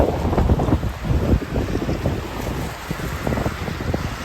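Typhoon wind and rain in Okinawa, Japan, gusting continuously in a loud, rough roar that buffets the microphone, with no pause or voices throughout.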